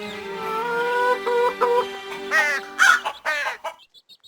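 A run of harsh, close crow-like caws, several calls in quick succession with short gaps, loud and raspy.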